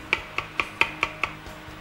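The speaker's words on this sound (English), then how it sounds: "I'm going to chop." Knife chopping garlic on a board at a live culinary workshop, six sharp, evenly spaced chops close by and fairly quiet, with no talk over them.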